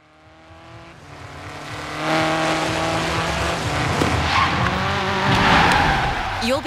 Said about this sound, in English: You'll be driving the buggy for the launch event against that Jeep.